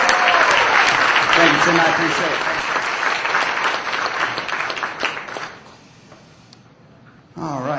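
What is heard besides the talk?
audience applause at magic show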